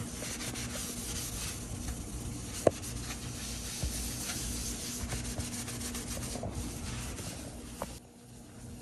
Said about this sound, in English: You just rub it on and let it sit for 5 to 10 minutes and then wipe it off